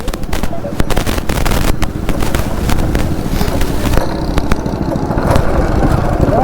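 A small go-kart engine runs loud and close with a rough, sputtering drone, and a voice talks over it, at a go-karting track in Tirupati.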